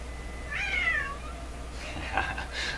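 A domestic cat meows twice indoors, fairly faint against a quiet background hum: a drawn-out first call, then a shorter second one.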